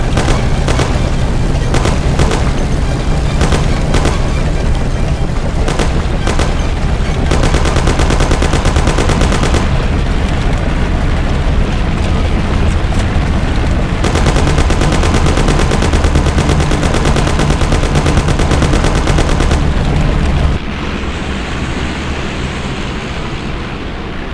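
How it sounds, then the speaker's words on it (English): Dense, loud gunfire from the video game Mafia, with rapid repeated shots over engine rumble and game noise that drop to a steadier lower roar near the end, with no clear speech. "You and Sam shoot them."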